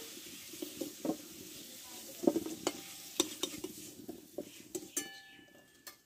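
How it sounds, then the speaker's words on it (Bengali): Potato pieces fried in oil in a Bengali home kitchen, sizzling steadily while a spoon scrapes and stirs them in sharp, irregular clatters close by. "দেখো এই তেলে আলুটা আমি ভালোভাবে কষে নিয়েছি।"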